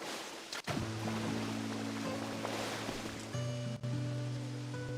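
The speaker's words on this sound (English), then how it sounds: "The sound of that waterfall you made is so relaxing." Soft, steady waterfall rush in the Pokemon Pokopia video game, a quiet continuous hiss under sustained musical tones, with two brief dropouts.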